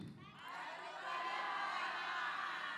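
Audience applause at an Islamic religious gathering with women's Majelis Ta'lim groups, a broad steady wash of clapping that swells and holds loud through the moment, with a voice over the start.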